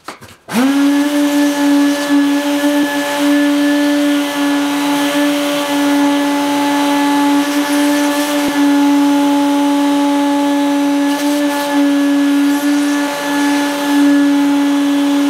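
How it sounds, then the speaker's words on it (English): A vacuum cleaner sucks dirt out of a sliding window track, a loud, steady tonal whine starting abruptly and holding constant with slight fluctuations as the nozzle moves along the track. "then just sucking up the dirt"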